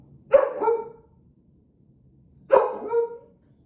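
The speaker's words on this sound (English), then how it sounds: "he's gonna bark and make noise right now" A dog shut in its crate gives two separate loud barks, each a short burst with a quick follow-up yip, spaced about two seconds apart in an otherwise quiet room.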